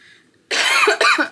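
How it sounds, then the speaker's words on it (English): Two quick, harsh coughs close to the microphone, the second following right after the first. "And I'm still coughing"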